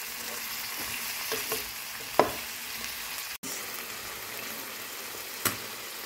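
Red pepper and broccoli fry in a pan with a soft, continuous sizzle and a few light clicks of utensil against pan, quiet and close with no talk.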